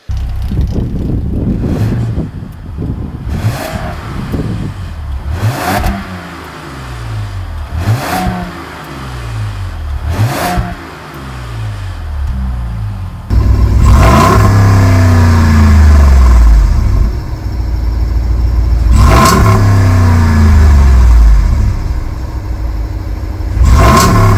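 A Jeep Grand Wagoneer with a 6.4 Hemi revs repeatedly, its engine climbing and falling in loud surges with a deep muscle-car burble, growing louder and fuller midway, with wind rush on the microphone.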